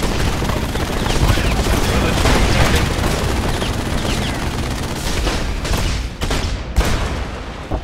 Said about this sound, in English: Nope, it's a grenade launcher.